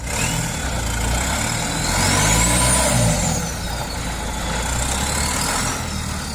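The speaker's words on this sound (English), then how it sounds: "I don't know if it's a turbo or some hydraulic system, but what I do know is that this car sounds so good in this game" A car in the racing game Forza Horizon 5 runs with a loud engine drone and a rising and falling whistle from a turbo or hydraulic system, sweeping up and down twice over a steady mechanical rumble.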